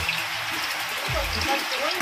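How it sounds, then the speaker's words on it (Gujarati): Rainwater drips and trickles from a clay-tiled roof, a continuous watery patter under a person speaking. "એટલે આમાંથી નળિયામાં પાણી પડતું હોય છે"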